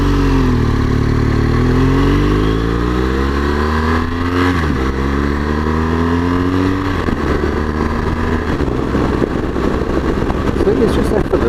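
A motorcycle engine on the road revs loud and close, its pitch climbing through two or three gear changes as the bike accelerates smoothly.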